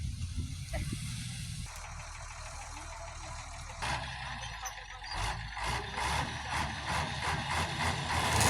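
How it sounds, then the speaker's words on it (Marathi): A 10-wheel truck loaded with sugarcane pulls away from the field toward the sugar factory. The engine rumbles and builds, with hissing and rhythmic pulsing, and faint voices sit in the background. "ही गाडी आता कारखान्याकडे निघालेली आहे"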